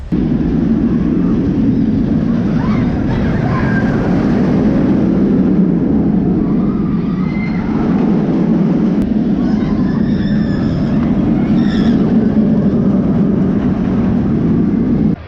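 Batman the Ride roller coaster at Six Flags Great Adventure roaring past, a loud continuous rumble and rush of steel wheels on track from fairly close, with faint crowd sounds in the background.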